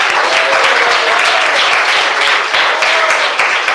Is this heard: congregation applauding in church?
yes